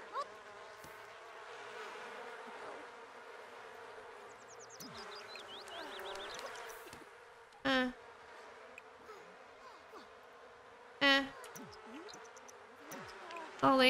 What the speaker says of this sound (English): Let's bond with bees.